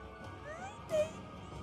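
A cat meows once, a short faint rising call heard near the middle against a quiet indoor background.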